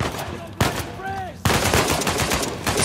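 Automatic AK-47 fire in the video game Uncharted 4, rapid broadband bursts that open the clip, pause briefly around a tonal game sound, then return as sustained loud spraying to the end.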